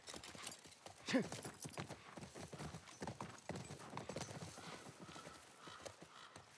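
Rapid clip-clop of horse hooves trotting steadily in the video game The Last of Us, with a brief whinny early on, moderately quiet and continuous throughout.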